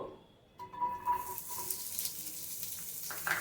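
Two medium onions tipped into hot oil in a pan, setting off a sudden sizzle that holds as a steady hiss, with a few faint clinks near the start and end.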